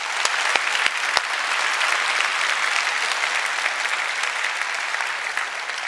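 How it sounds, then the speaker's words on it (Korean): A church congregation gives sustained, even applause during a sermon, a dense wash of many hands clapping steadily and fairly loud throughout. "우리 하나님께 모든 감사의 역사에 박수를 올렸으면 좋겠습니다."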